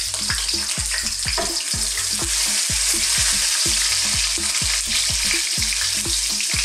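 Garlic sizzles hard in hot oil in a pan for a Thai seafood dish, a steady bright crackle with a regular rhythm of dull scraping stirs underneath, close and loud throughout.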